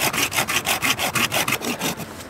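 A bushcraft hand saw cuts through wood outdoors in quick, even back-and-forth strokes, about ten rasping pulls, close and loud with no talking.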